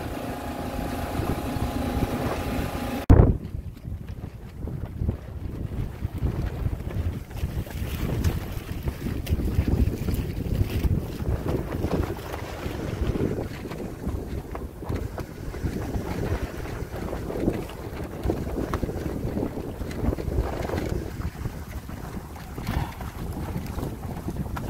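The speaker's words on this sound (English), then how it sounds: "Decided to finish out this voyage under nothing but sail. There's tons of wind in here" Wind buffets a sailboat under sail alone, a steady broad roar of gusts and microphone wind noise with water washing along the hull, continuous and close throughout.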